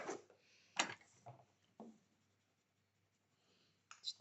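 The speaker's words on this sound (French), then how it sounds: "je gomme ensuite les petits traits qui me restent" An eraser rubs out small leftover pencil lines on paper for a double-draped handmade card, heard as a few short, soft scrubbing bursts close up, separated by quiet pauses.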